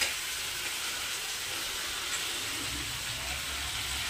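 Cauliflower sizzles in a small frying pan, a steady broadband hiss that stays even and fairly close throughout, with no voices.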